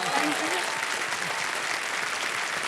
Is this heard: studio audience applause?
yes